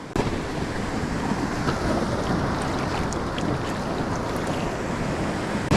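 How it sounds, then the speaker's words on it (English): Ocean waves wash onto a beach, a broad continuous rush of surf mixed with gusting wind noise on the microphone, steady and fairly loud with no talk. "Here we go, here's a good wave."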